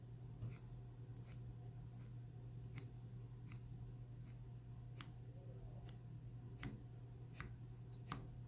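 Scissors snip through cardboard being cut into pieces for a handmade loom, about a dozen crisp, evenly spaced clicks over a low steady hum in a quiet room.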